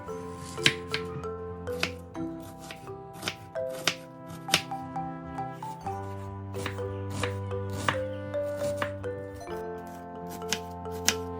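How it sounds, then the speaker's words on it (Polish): A knife dices peeled onion on a cutting board for a tomato-and-egg shakshuka, giving a run of quick, crisp chops over steady background music with no talking. "Najpierw obieramy cebulę, myjemy i kroimy w kostkę."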